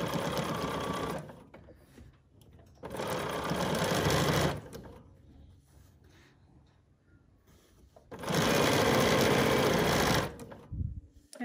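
A sewing machine chain pieces fabric in three loud, close bursts of rapid stitching, with quieter pauses between runs.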